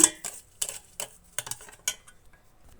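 A spoon stirs food colouring into a cream mixture for a cream cake, giving a series of sharp metallic clinks against the bowl at an irregular beat, about eight distinct taps, close and clear with no talking.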